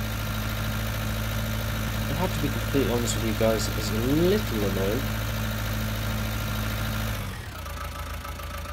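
Tractor engine idling in Farming Simulator 19, a steady low hum that holds under a man's speech and then drops away near the end.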